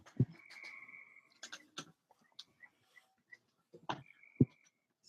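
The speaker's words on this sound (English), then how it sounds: "frogs are making me kind of sleepy" Frogs croak in short, scattered bursts against a quiet night background, a few loud close calls standing out among fainter ones with gaps of silence between.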